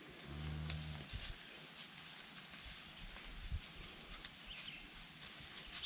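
A cow with her newborn heifer calf on a farm in spring gives one low, close moo lasting about a second, followed by quieter barnyard shuffling and faint movement.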